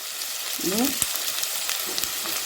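Brinjal sautés in a pan for a Vellore-style thorny eggplant curry, a steady hiss of sizzling oil with occasional stirring clatter and a brief voice in the background.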